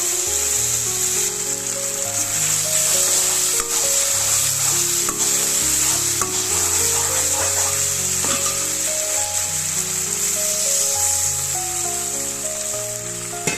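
Ground spices for a pumpkin greens curry fry in a pan with a loud, continuous sizzle, broken by scraping stirs and soft knocks of a spoon, close up with no talk.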